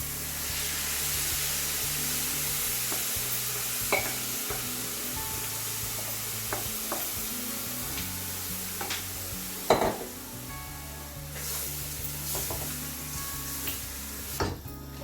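Carrots and rice frying in a pan for lamb neck curry, a steady sizzle and hiss with scraping stirs and occasional clanks of a utensil against the pan, close and continuous, no voices.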